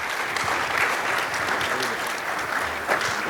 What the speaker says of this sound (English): Can we give everyone a round of applause that's up here?